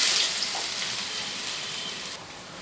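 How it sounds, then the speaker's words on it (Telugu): Thinly sliced onions fry in hot oil with a loud, continuous, close sizzle that holds steady and eases slightly toward the end. "ఆయిల్ వేడెక్కిన తర్వాత అందులో సన్నగా తరిగి పెట్టుకున్న ఆనియన్ ముక్కలు వేయాలి"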